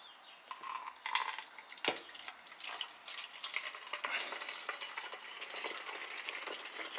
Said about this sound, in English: we first fill up the cannon with 500 milliliters of water